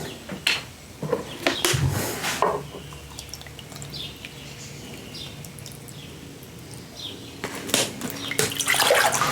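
A cup of water is poured into a pot while making chocolate liqueur, giving a steady splashing pour in the middle of the clip with scattered kitchen clatter before and after.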